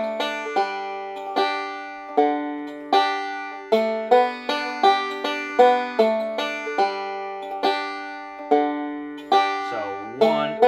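A banjo plays a beginner bluegrass lick in G with bright, quick plucked notes in an even rolling rhythm. A slide comes near the end, and the instrument is heard solo and close, without talk.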